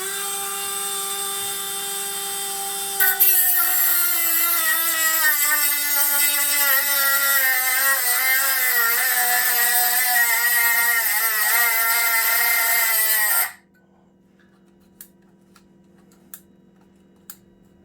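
A 10.8 volt cordless Dremel-style rotary tool cutting, a loud high-pitched whine with wavering pitch for about ten seconds, stopping abruptly, then near quiet with a few faint clicks.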